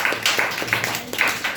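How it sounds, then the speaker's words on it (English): Audience clapping for a student speaker at a school public speaking competition, a short burst of scattered hand claps from a modest crowd, fairly close and steady for a moment. "Well done, clap for Vanshika."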